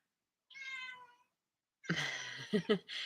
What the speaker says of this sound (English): Kitty's telling us all about it.